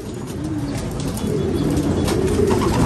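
Steady outdoor bird sounds with pigeons cooing and shuffling, a low continuous murmur of a flock nearby, no talking.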